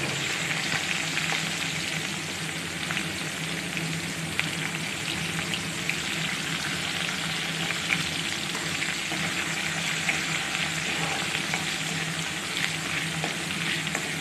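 Onions fry in a pan for an Assamese fish and bottle gourd dish, giving a steady, dense sizzle. The crackle stays even and close throughout and no one speaks.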